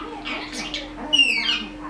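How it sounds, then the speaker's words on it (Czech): An Alexandrine parakeet gives a few short calls close by, including a shrill high squawk near the end, over quiet room sound. "Ty jsi můj papoušek."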